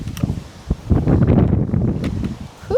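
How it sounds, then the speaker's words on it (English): Wind gusts and buffets through an outdoor garden, rustling foliage in a steady rushing noise with a few sharp bumps against the microphone. "it is getting windy"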